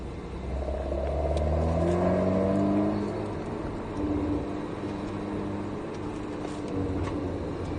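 An Alpine A110 S on the Lohéac circuit accelerates. Its engine note climbs in pitch before settling into a steady drone, heard fairly faint and somewhat distant with no talk over it.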